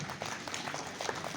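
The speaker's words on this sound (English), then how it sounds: "Can we have a bigger round of applause?" An audience applauds at a school quiz competition, a dense, steady patter of many hands clapping together at moderate distance.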